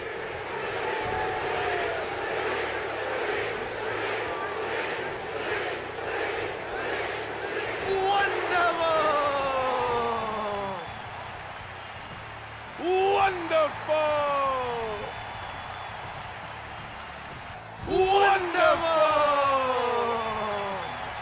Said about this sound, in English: with these uploads also containing hidden voice lines and crowd chants